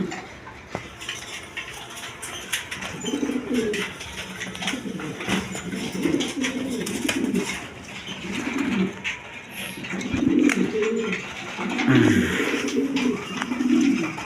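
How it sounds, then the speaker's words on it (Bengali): A pair of sky-blue, large-sized domestic pigeons at a pigeon sale coo in repeated low throaty bursts, moderately near, over a busy background hum with faint clinks. "এইখানে এক পেয়ার কবুতর আছে"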